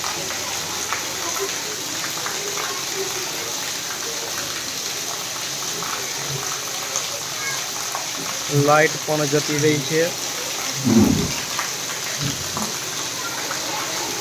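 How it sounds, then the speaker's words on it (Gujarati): Steady, gentle night rain hisses evenly throughout with no thunder, with a voice speaking briefly partway through. "શાંત રીતે વરસાદ વરસી રહ્યો છે।"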